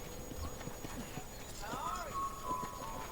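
Horse hooves clip-clop in the Red Dead Redemption video game, a steady hoofbeat under faint game ambience with a brief whinny-like tone, and someone talks over it.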